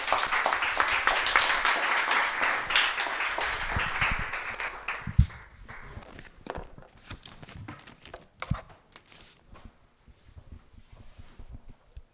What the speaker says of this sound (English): I would like to ask you to welcome Maurizio Busacca with a big applause.